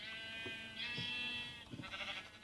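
Sheep in a farming video game bleat in a few wavering, nasal calls with short pauses between them, fairly close, with no talking over them.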